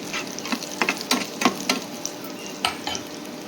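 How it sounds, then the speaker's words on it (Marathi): Garlic fries in oil with a steady sizzle and scattered sharp crackles and pops, close by and fairly loud, with no talking. "लसूण जरा फ्राय होऊ दे."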